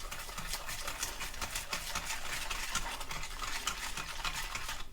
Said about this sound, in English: we're going to whisk this all together till it's all fully incorporated